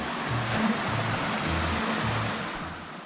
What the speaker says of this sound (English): This is the creek that gives its name to the entire valley. Panthertown Creek.